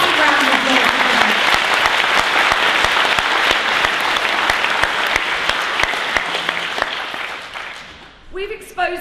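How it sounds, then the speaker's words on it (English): A large crowd at a public protest meeting breaks into loud, sustained applause that fills the room, dense clapping continuing for several seconds before fading as a voice begins to speak. "A massive round of applause for Quebec"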